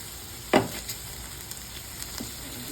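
Smash burger patties fry on a hot griddle with a steady close sizzle, broken early by one sharp metallic scrape and a few lighter taps, with no talk.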